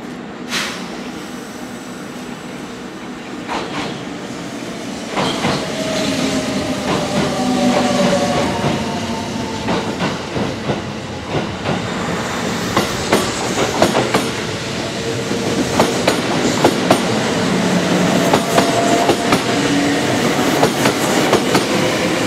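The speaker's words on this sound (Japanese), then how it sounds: "鳥羽行きの普通電車が2両編成で参ります" A two-car Kintetsu local train bound for Toba rolls into Matsusaka station, steady rumble with rhythmic wheel clacks and faint squeals, growing louder toward the end.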